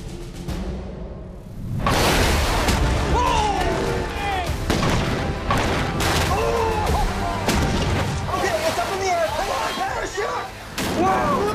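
Pressurized rocket launching at 310 PSI, a sudden loud rushing blast that rises from quiet and holds as a sustained roar, with excited voices talking and shouting over it throughout.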